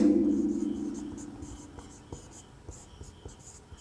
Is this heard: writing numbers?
yes